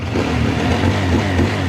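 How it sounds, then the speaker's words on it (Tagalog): A QJ Motor SRK 550 twin-cylinder motorcycle engine runs close up in a steady, throaty drone with slight rises in pitch, alone without voices. "Dito sa tunog ng motor, dahil dalawa yung piston niya, ganyan yung tunog at ang crispy"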